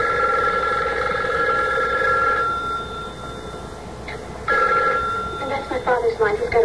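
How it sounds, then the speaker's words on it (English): A telephone bell rings on a private line in a 1970s home, a repeated electric ring sounding in bursts with a pause between them, while people talk over it. "He's got a private phone."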